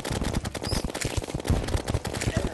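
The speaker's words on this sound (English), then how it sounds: "Oh, he also has a cannon." Rapid bursts of cannon fire from the pirate captain boss in the video game Terraria, a dense string of sharp booming shots in quick succession, loud and close with no talking over them.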